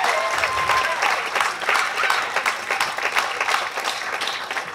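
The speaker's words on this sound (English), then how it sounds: "Let's give her a round of applause." Wedding guests give the officiant a warm round of applause, a full burst of many hands clapping close by that swells and then gradually thins out.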